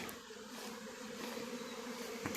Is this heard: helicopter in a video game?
no